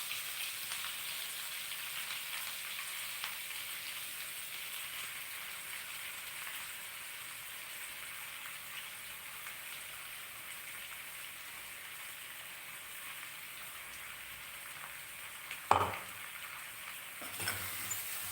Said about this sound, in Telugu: ఇప్పుడు దీంట్లో ఈ మిక్స్ అంతా వేసి వేయించాలన్నమాట